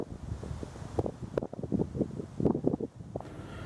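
Wind gusts through a pine woods beside a hunting trail, a close buffeting rush with uneven swells and dips that rustles nearby branches.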